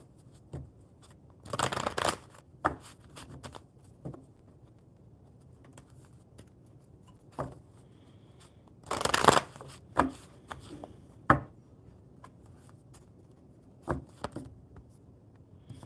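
An Enchanted Map oracle card deck is shuffled in irregular bursts, with quick riffling rushes near two and nine seconds and scattered softer card taps and slides between them, close by against a quiet room.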